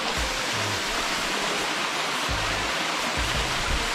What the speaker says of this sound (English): Especially at a waterfall.